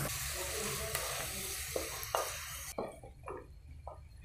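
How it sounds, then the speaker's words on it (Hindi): Chopped tomatoes are stirred into a chana chaat mixture in a pan, sizzling steadily at first, then breaking into a few close, separate scraping and squishing stirs once the hiss drops away, with no voice. "इसको अच्छी तरह से मैं करती हूँ मिक्स।"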